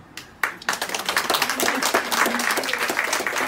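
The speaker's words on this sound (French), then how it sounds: "vous pouvez vous applaudir" Staff at a community vaccination centre applaud themselves: a few scattered claps at first, then a small group joins in steady, fairly close clapping that carries on to the end.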